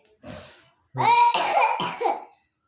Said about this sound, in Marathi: ते खोकते बघा आई पण खोकते